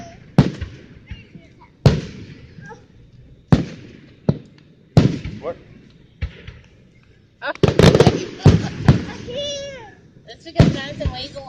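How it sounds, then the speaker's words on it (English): Fireworks burst in a series of loud, sharp bangs spaced a second or two apart, then a denser crackling cluster with a whistling streak, while children and adults talk and exclaim nearby. "It's raining fireworks."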